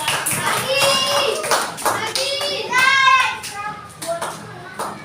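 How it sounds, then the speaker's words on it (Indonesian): Fourth-grade pupils in an elementary school class clap together for a classmate, a steady patter of many small hands lasting several seconds while children talk and call out over it. "Semua tepuk tangan dong buat"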